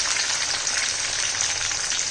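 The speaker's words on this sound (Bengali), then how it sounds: "রসুনটা সামান্য ভাজা মতন হচ্ছে" Garlic fries in a pan with a steady, dense sizzle that holds evenly and close throughout, with no voices.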